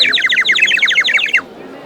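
A toy bird whistle filled with water warbles like a songbird, a rapid bubbling trill of high chirps lasting over a second before stopping abruptly. Close, bright and loud, with no voices.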